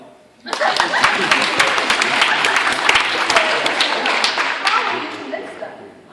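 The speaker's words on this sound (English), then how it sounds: "Please applaud." Loud applause from a debate audience swells in after a short pause and holds steady as a dense wash of clapping, with scattered louder claps and faint crowd murmur throughout.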